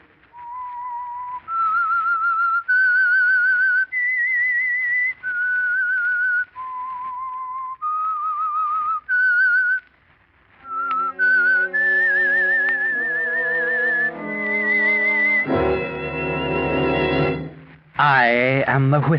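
The Whistler radio show's theme is whistled as a clear, close melody of held notes, then orchestral music swells in with rich chords and a loud flourish at the end.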